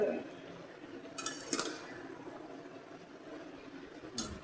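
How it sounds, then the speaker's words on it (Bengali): Sliced potatoes and flat beans being stirred in a pan for a Bengali bean-potato fry, with a few metal spoon clinks on the pan and a soft background hiss. "এক হাতে ধরতে হয় এক হাতে নাড়ানাড়ি করতে হয়"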